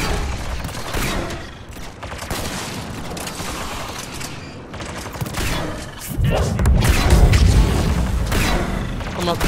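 A grenade blast booms amid dense gunfire and mechanical game noise in a Mass Effect 3 multiplayer match, with the heaviest low rumble swelling in the back half over a steady battle din, while players talk.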